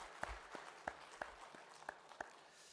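Church congregation at a year-end worship service gives a faint, sparse round of applause. Distinct claps land in a loose, roughly even rhythm against a quiet room, with no voices.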